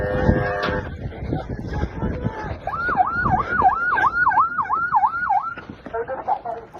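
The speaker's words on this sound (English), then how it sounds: "Sirens out here don't necessarily mean IDF." A wailing emergency siren rises and falls in a rapid repeating yelp, fairly close, with brief muffled voices and road noise around it.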